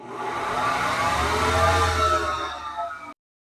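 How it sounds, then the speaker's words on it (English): A table saw dust collector switched on by remote in a woodworking shop, starting with a loud, steady motor roar and rushing air that holds for about three seconds and then cuts off abruptly. "So I can put one down here for my table saw dust collector"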